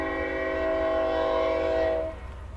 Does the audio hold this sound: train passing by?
yes